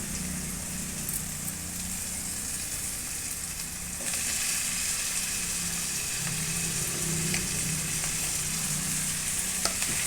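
Onions and tomatoes sautéing in a pan for a mushroom gravy make a continuous close sizzle that swells louder partway through, with faint stirring scrapes and no talk.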